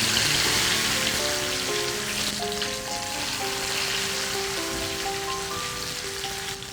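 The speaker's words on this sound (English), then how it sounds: "We'll start deep frying 2 Karelas at a time." Steady crackling sizzle of stuffed bitter gourds (karela) deep frying in hot oil, loud and continuous throughout with no voices.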